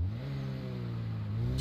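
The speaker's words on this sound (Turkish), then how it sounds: "Arabanın sesi de gayet hoş." A Volkswagen Golf engine in the video game GTA 5 holds a steady, loud mid-pitched rev, with a smooth, continuous drone that starts climbing right at the end.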